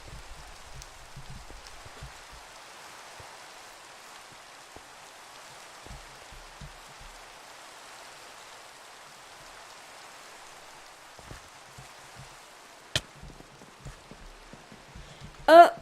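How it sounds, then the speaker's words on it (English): Rain falls in the survival video game ZAWA Survival, a faint steady hiss with soft low patters, broken near the end by a sharp click and a brief louder burst. "And it is raining."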